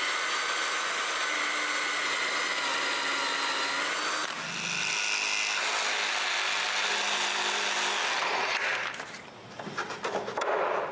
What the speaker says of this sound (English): Next, I mark and drill the holes for the 2 front electrical boxes.